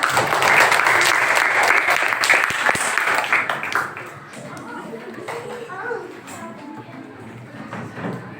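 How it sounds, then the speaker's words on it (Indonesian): Schoolchildren in a classroom clap for a girl student, a loud burst of applause that fades after a few seconds into scattered claps, children's chatter and classroom noise. "tepuk tangan dulu untuk Ananda Najwa"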